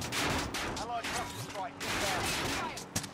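Dense video game gunfire and explosive bursts rattle almost without pause in a chaotic firefight, loud and close, with a voice speaking faintly underneath.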